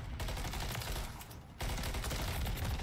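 Sustained automatic gunfire in a Call of Duty match, loud and continuous, with a brief dip in the shooting midway before the rapid firing resumes at full intensity.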